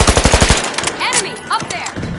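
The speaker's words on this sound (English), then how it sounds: "Time for payback. Thermite out. Firing thermite." Rapid bursts of thermite weapon fire in a bank-heist video game, a loud close volley of quick shots that gives way to whooshing effects and scattered game sounds.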